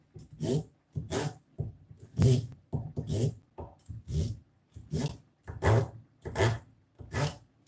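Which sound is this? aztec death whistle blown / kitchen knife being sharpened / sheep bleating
kitchen knife being sharpened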